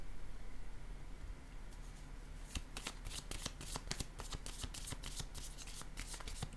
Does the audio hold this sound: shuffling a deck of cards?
yes